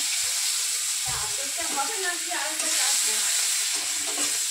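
Black cumin seeds and crushed garlic sizzle steadily in hot oil in a pan, a constant close hiss with a brief stir or clatter midway and soft voices in the background.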